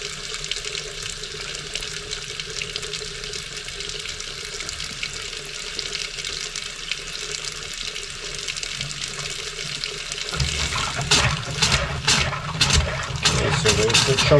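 Water rushes through the plumbing lines of a Keystone Bullet 261RBS camping trailer being winterized, a steady hiss that turns into louder, sputtering bursts as air is pushed out of the line.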